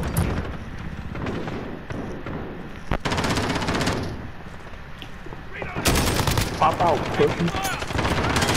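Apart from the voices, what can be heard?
gunfire in the video game Warzone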